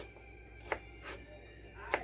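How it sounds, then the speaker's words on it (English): A knife dices celery and onion on a cutting board for tomato bisque, giving two sharp, isolated chops about a second apart, close and fairly quiet, with soft handling noise between. "So I'm going to go ahead and dice those up now."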